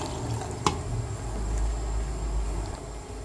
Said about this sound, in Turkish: Ve üzerinden aşacak kadar sıcak su ilave ediyoruz